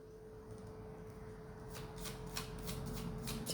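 Playing cards are riffled and shuffled by hand for a card reading, starting softly and turning into a run of crisp, rapid flutters close by in a quiet room.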